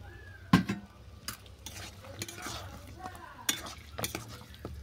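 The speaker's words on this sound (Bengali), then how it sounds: "দিয়ে আরও 2 মিনিট আমি এটাকে কষিয়ে নেব।" Chicken with yogurt frying in a pan for a chicken broccoli curry, stirred with scattered scrapes and clinks against the pan over a faint sizzle, fairly quiet and close.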